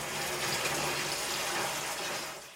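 Tap water rushing steadily into household containers in a village home, a loud continuous splashing gush that fades at the very end.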